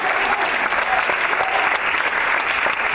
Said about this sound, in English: So please, a special round of applause.